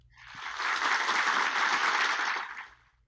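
A studio audience at a radio-style Dracula performance bursts into applause, a full, even roar of clapping that swells in quickly, holds, and fades away near the end.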